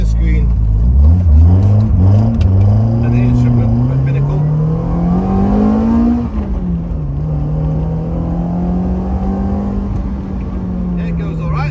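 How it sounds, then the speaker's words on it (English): Engine of a rally-prepared Hillman Imp revving and pulling while driving, a loud steady drone that climbs in pitch over several seconds, dips, then holds under someone talking close by. "I'll fire it up and I'll go for a quick drive and warm it up."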